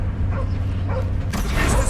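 Cartoon dog yipping and whimpering in short bursts over a steady low hum and a loud, dense soundtrack.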